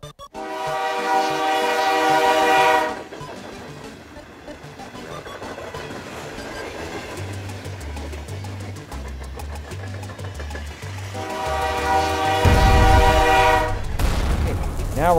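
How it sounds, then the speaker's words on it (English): A train rolls past with its horn blaring in two long, loud blasts separated by rumbling wheel and engine noise, the rhythmic clatter of cars running steadily underneath. "Hey, what's going on here, Train? Get out of here, Train."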